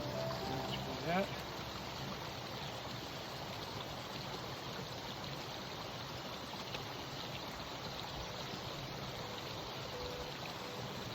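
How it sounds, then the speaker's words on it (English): A small mountain stream flows steadily along a foothills trail, a continuous broadband rush of water close by with no breaks, a faint brief voice near the start. "Now we're just gonna collect some in this little stream."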